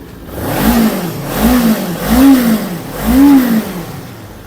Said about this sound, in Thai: มาฟังเสียงท่อเดโบกันหน่อย